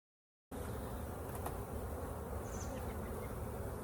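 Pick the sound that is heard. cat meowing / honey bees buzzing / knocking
honey bees buzzing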